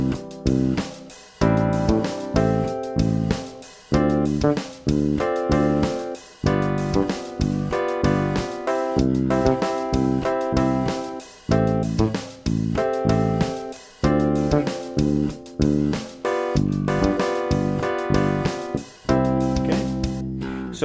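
An electric bass plays a line of short, sharply cut staccato octaves over a full backing track. The notes bounce in a steady, punchy rhythm, close and prominent, with no talking.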